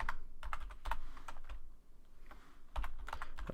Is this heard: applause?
no